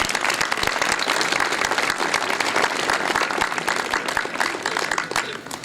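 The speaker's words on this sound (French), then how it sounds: "Je crois qu'on peut l'applaudir une nouvelle fois pour le résultat." Dense, steady applause from an audience at a speech inaugurating the Parc St Sever school building, continuous and fairly loud for the whole stretch with no voices over it.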